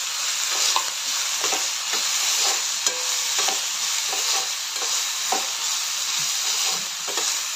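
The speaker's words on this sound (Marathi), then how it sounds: "त्यानंतर कुटलेला आलं लसूण घालते." Crushed ginger and garlic sizzle steadily in a hot frying pan, a continuous close hiss and crackle with occasional soft stirring scrapes throughout.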